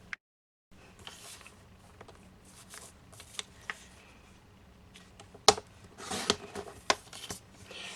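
Paper cut into small 2x2 squares for a kids' Bible craft: quiet scissor snips and paper rustles, scattered and close, with a few sharper crisp cuts near the end.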